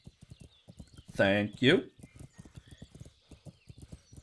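Hooves of a horse clip-clop at a steady galloping rhythm in the Kingdom Come: Deliverance video game, a quick run of short thuds throughout, interrupted midway by a loud neigh, while someone speaks briefly.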